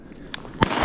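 A shotgun fires during a duck hunt on Arkansas public land: one sharp, loud outdoor bang near the end of a short moment, preceded by a faint click.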